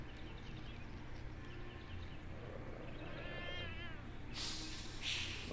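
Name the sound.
cat meowing in the video game Jenny LeClue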